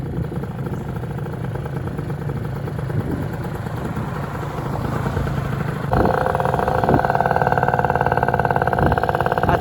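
A Vento Triton R4 motorcycle rolls downhill with its engine droning steadily, then the pitch and loudness rise sharply about six seconds in and hold there. The bike may have failing gears.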